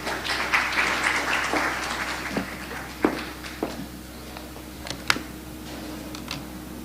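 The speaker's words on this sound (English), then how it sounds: "Round of applause, please." Applause from an audience at an annual investment conference, a brief round of clapping that quickly dies away into scattered single claps, footsteps and faint room noise.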